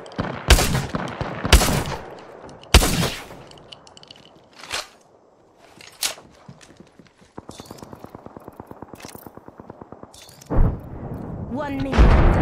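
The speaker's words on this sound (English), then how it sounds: "Shooting!" Gunfire in a shooter video game: several loud, isolated shots spaced a second or so apart, then a long rapid automatic burst and more heavy shots near the end.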